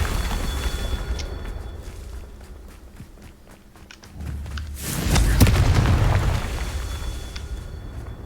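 In Hogwarts Legacy, a Confringo spell goes off with a deep booming explosion that rolls on for a few seconds. Footstep-like rustling comes before it.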